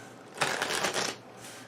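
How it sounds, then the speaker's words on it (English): A deck of cards is riffled once during a game of Onirim: a close, crisp flurry of flicking paper lasting about a second, then quiet. "shuffle again. Deck goes there."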